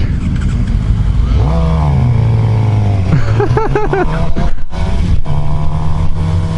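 A 2015 Suzuki GSX-R750 super sport motorcycle engine revs loudly and close, with rising and falling pitch sweeps and sharp throttle blips over a constant mechanical drone, with no talk.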